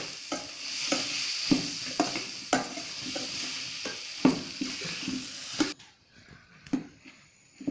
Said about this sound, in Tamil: இப்போ நல்லா வதங்கிருச்சு தக்காளி எல்லாம் நல்லா வதக்கிடுங்க